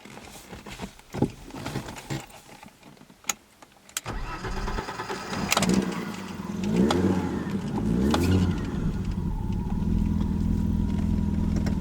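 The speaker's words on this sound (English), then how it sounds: "It sounds decent because it has an aftermarket muffler, so it sounds kind of nice." A BMW E34 engine with an aftermarket muffler revs and accelerates close by with a deep, throaty exhaust note, building after a few sharp clicks and knocks, then holding a steady rumbling drone.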